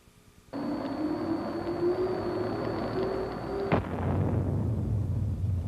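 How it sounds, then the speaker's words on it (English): An M1 Abrams tank's ammunition compartment explodes during a protection test, erupting into a loud, sustained roaring burn-off of propellant, cut by a sharp blast partway through before the roar continues. "The jet passed through 2 rounds, which caused a violent initial explosion."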